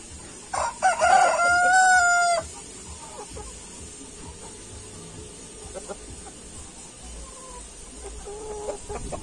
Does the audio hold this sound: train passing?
no